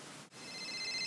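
A mobile phone's electronic ringtone chimes in steady repeating tones over a background hiss, continuing without talk.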